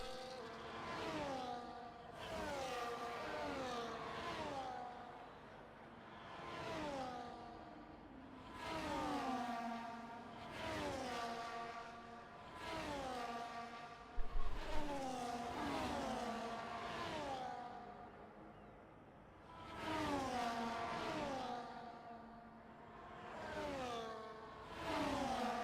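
Race cars in a video game at the Abu Dhabi Grand Prix, engines droning and shifting pitch in repeated waves as they crawl and rev toward the grid, a steady mechanical hum with no talking.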